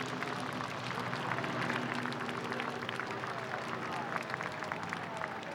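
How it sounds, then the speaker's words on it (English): A parade crowd at an Armed Forces Day parade in Torrance claps and cheers as vintage Stearman biplanes pass, a continuous wash of scattered applause with a low engine drone and some talk underneath. "Round of applause."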